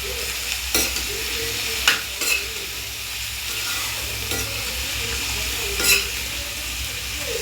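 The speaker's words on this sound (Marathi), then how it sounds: "भाजी परतून घेऊया आपण चांगली." Cluster beans are stir-fried in a pan with a steady sizzle, and periodic scrapes and clinks come from a utensil stirring against the pan, close and continuous.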